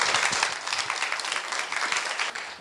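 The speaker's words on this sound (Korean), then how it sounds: "박수 부탁드리겠습니다" An audience at a broadcast talk concert applauds warmly, a thick, even roar of many people clapping that holds steady and begins to fade at the end.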